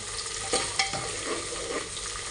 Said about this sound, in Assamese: ভালদৰে লৰাই আছোঁ।